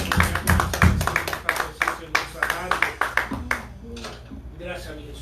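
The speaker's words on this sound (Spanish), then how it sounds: "Den un aplauso fuerte a nuestro Señor." At a Spanish-language Holy Week church service, the congregation gives a few seconds of scattered, uneven clapping mixed with voices. It fades into speech at the end.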